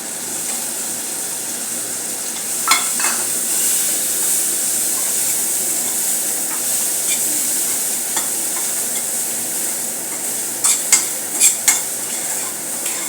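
Finely chopped onion roasting lightly in a pan for a cheese burger gives a steady, close sizzle, with a few soft clicks and scrapes of stirring in the second half.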